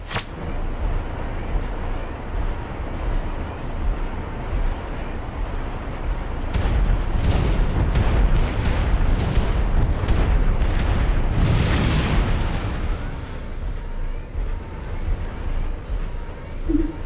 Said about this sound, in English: The enemy is attacking with bombers.